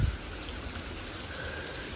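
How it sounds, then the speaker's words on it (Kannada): Steady rain falling outside a house in Kodlipete, heard as a soft, even hiss of drops on surfaces through a brief two-second stretch, with a low knock at the very start and no speech. "ಮಳೆ ಸೌಂಡೇ ಜಾಸ್ತಿ ಕೇಳಿಸ್ತಾ ಇದೆ ನೋಡಿ"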